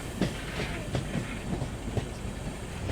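At Bapatla station, the Tirupati-Puri Express with its new LHB coaches rolls past in a broad, steady rumble, with a faint regular clatter of wheels over rail joints and a background hiss.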